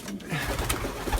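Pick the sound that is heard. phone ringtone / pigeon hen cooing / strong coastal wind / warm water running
pigeon hen cooing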